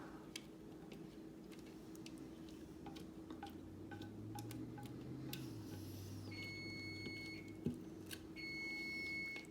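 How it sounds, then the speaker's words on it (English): A kitchen timer goes off for baking brownies, sounding steady repeated electronic beeps faintly in the background of a home kitchen, alongside light ticking and soft clatter. "I know you probably hear that timer going off over there"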